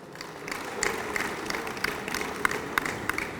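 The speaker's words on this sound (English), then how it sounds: "Give him a round of applause." Scattered audience applause at a reinsurance CSR competition and ambassador awards ceremony, a thin steady patter of clapping with a few sharper individual claps standing out, moderately distant and fairly soft.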